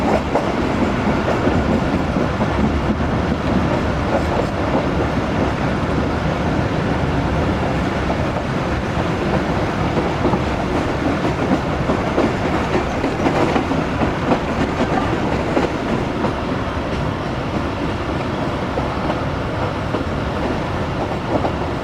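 The Tezgam passenger train rolls through a long curve approaching Rahim Yar Khan station, giving a steady loud rumble with continuous wheel clatter heard from inside the carriage.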